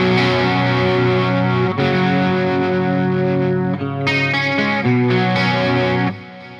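Electric guitar played through a 1985 Marshall JCM800 amplifier, loud and distorted, with sustained chords and note changes that ring out and then fade at the end. No one speaks.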